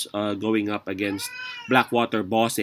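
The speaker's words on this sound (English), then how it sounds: "That's my cat, so pardon." Domestic cat meowing once in a drawn-out, rising-and-falling call between stretches of close talk, heard clearly in the middle of the clip.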